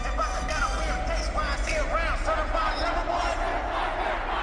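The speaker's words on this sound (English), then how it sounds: "And obviously the crowd is singing the song." A huge arena crowd sings along to a song at a concert tour in Toronto, a dense, continuous mass of voices over a booming low-end rumble.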